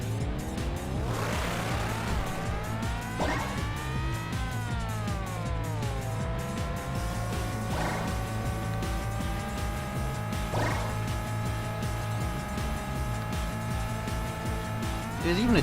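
A car in the Spark the Electric Jester 3 video game drives along with a steady engine whine that rises and levels off, plus scattered skids and effects under constant game music and talk.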